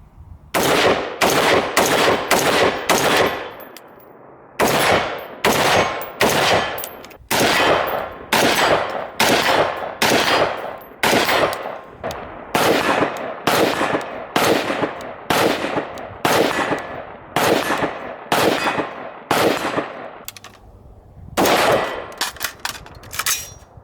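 Sig MSR rifle firing steel-case ammunition in a long string of sharp, loud rifle shots, one after another with brief gaps, followed by a short pause and a final shot near the end.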